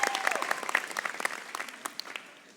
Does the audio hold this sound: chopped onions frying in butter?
no